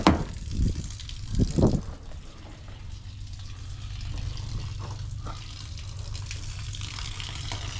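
Water gushes steadily from an RV water heater drain through a hose, a continuous broadband rush after a few brief louder splashes and handling knocks at the start.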